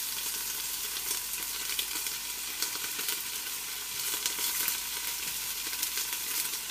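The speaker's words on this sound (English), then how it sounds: "So that's going to all go in and sizzle away until it gets a little bit of browning to it." Beef bones and beef scraps browning in a stockpot give a steady, dense sizzle of frying that holds at an even level throughout, with no talk.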